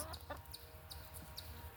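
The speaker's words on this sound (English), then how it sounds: "And she's got her chickens in here." Chickens kept in a garden cluck softly in short, scattered calls, faint and close under a steady low background hum.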